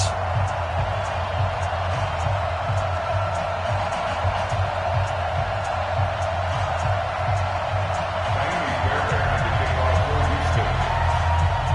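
A stadium crowd in an EA Sports football video game, Washington Redskins against Houston Texans, roars in a loud, continuous wash of cheering that never lets up.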